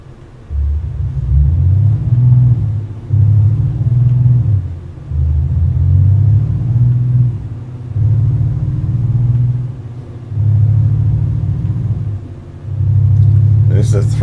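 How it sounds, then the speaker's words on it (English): A Volvo truck engine in Euro Truck Simulator 2 gives a deep, throaty low rumble that swells and eases in repeated surges as the truck accelerates and shifts, loud and close, with a voice talking over it. "This is a throaty Volvo, as you can hear."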